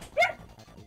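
A single short, sharp dog bark or yip rings out close by, followed by low background noise.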